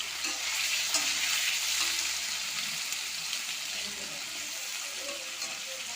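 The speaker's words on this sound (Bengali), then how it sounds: "এবার পনিরটাকে আমি প্রথমে ভেজে নেব। তেলটা গরম হয়ে গেছে, প্রচুর গরম হয়ে গেছে।" Paneer frying in very hot oil in a wok gives a quiet, continuous sizzle with faint stirring scrapes and a few soft pops, with no one talking.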